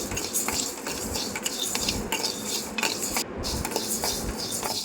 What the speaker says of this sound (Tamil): கடாய் ஹீட் ஆனதுமே கொஞ்சமாக அரிசி சேர்த்து நல்லா வறுத்து எடுத்துக்கோங்க.